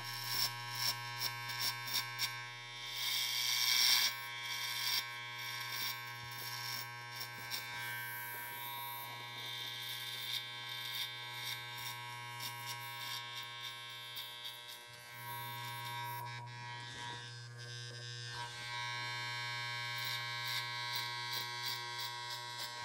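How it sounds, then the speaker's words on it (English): Electric hair clipper buzzing steadily and close during a skin fade haircut, a constant motor hum that dips briefly near the middle as the blade moves across the head, with no talking. "This particular clipper, you can actually get 5 different blade sizes out of it"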